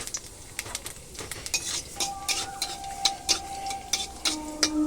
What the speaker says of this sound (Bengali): এখানে কড়াইতে তেল গরম দিয়েছি ধোয়া দেওয়া গরম হয়ে গেছে প্রচুর তো এখানটায় আমি এবার কালো কালো জিরে ফোড়ন দেবো